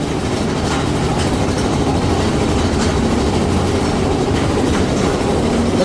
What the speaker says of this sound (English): We're on Big Thunder Mountain Railroad.